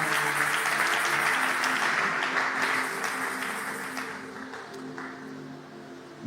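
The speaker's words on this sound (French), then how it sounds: "Acclame très fort si tu le reçois." Church congregation applauding and cheering during a sermon, a loud sustained crowd roar with steady clapping that slowly fades over several seconds, with no talk over it.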